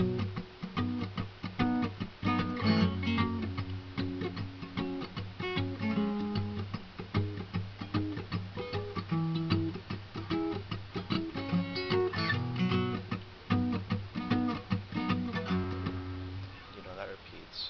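An acoustic guitar strums the repeating chord progression of a song, plucked and rhythmic, played up close without any singing or talk.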